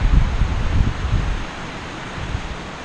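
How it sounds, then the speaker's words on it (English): Wind gusts along an uphill hiking trail, a steady broadband rush with heavier rumbling buffets at first that ease into a softer, even whoosh. No voices are heard. "The wind sounds so amazing and purifying."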